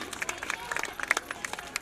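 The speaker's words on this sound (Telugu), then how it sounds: "చప్పట్లు" Scattered hand claps from a small crowd, light and uneven, with a few louder claps standing out over a murmur of background chatter.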